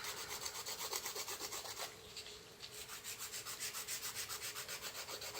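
A nail file rasps rapidly back and forth across an artificial resin nail in quick, even strokes that pause briefly partway through, close and steady with no talking.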